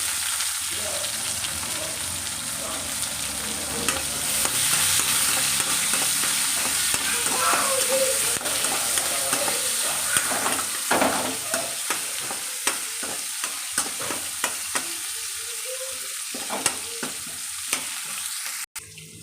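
Onion and curry leaves sizzle in hot oil with mustard seeds for a Kannada-style okra sambar tempering, a steady close frying hiss with frequent sharp stirring clicks of a spoon against the pan.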